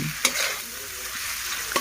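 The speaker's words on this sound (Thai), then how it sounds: "แล้วเราก็จะใส่หน่อไม้น้ำลงไปค่ะ ผัดหน่อไม้น้ำค่ะ ให้ คลุกคลิกเข้าไปกับน้ำมันพืชนนะคะ" Shrimp and chopped water mimosa stir-fried in vegetable oil in a hot pan, with a steady close sizzle and two sharp scraping stirs of the spatula, no voices.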